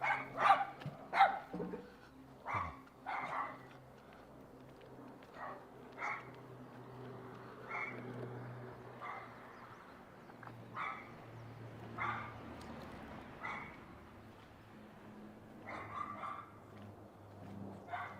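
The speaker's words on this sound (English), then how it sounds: "We got more doggos." Several dogs bark and yip in short scattered bursts along a countryside walk near Osaka, Japan, some close and some farther off, over steady low background hum with faint talk.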